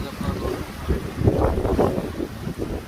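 Wind buffets the microphone while water rushes and splashes past a sailboat sailing from Paxos to Parga, Greece, a steady loud whoosh with surging swells.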